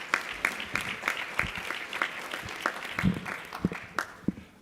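A keynote audience at a NABSE Midwest educators' gathering breaks into applause, a dense, steady patter of many hands clapping throughout, with no speech over it.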